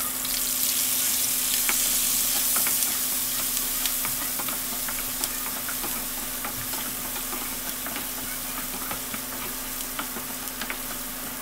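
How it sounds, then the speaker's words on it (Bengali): Fish sizzles and crackles in hot oil in a pan while cooking a Bengali fish bhuna, a dense, steady frying hiss with sharp spitting pops throughout and a faint low hum beneath, with no talking. "আমি কিন্তু সাউন্ডটা কাটিনি ইচ্ছে করেই। ভাবলাম যে একটু রান্নার শব্দটা আপনাদেরকে একটু শুনিয়ে দিই।"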